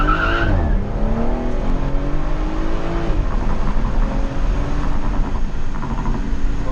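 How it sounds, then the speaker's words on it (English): A stage 1 BMW 440i roars through a loud launch-control start, engine note climbing fast with tire squeal, then dropping and rising again as it pulls away, close and dominant throughout. "So I'm going to be attempting launch control."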